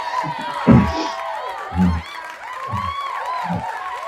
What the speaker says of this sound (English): Let's give her applause for that one.